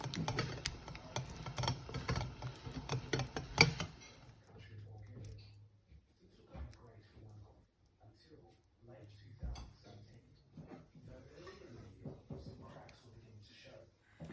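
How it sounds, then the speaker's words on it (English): Butter being stirred into melted chocolate for Oreo truffles, with a spoon clicking and scraping busily against the bowl at first, then softer, intermittent stirring. "I'm going to add some butter now to the chocolate to help make it a little bit smoother. I'm just going to stir it in."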